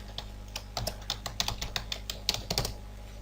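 Fingers type an email address on a computer keyboard: a quick, uneven run of close, crisp key clicks over a faint steady background hum.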